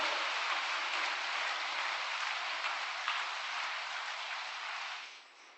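A congregation at a vigil prayer gathering gives sustained applause of thanks, a broad even wash of clapping that holds steady before tapering off near the end.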